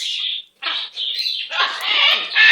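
Pet bird calling with loud, close, shrill squawks and chirps in quick succession, indoors.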